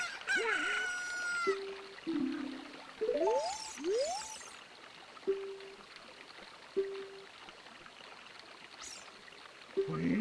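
A rooster crows from Ocarina of Time at Lon Lon Ranch: a rising cock-a-doodle-doo up front, then clucks and short chirpy game sound effects spaced across a looping outdoor ambience, with no talking.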